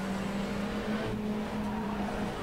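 Race car engine under braking in rFactor 2 during an endurance race at Indianapolis, a steady mid-pitched engine drone with a brief tonal squeal partway through, continuous and fairly loud.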